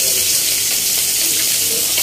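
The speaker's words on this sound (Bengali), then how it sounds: "বাকি মাছগুলো ভাজা হচ্ছে" Chapila fish frying in a pan of hot oil, a steady, close, dense sizzle that holds evenly with no voices over it.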